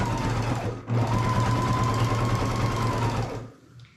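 Baby Lock Jazz II sewing machine stitching a bulky quilt, a steady close mechanical whir running for about three seconds after a brief pause, then stopping.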